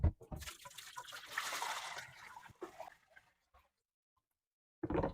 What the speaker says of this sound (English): Then we need to go ahead and drain the cooler.